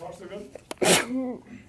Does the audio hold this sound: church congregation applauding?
no